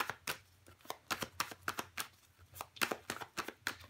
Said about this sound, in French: Si j'arrive à battre les cartes déjà pour commencer, ça sera déjà pas mal.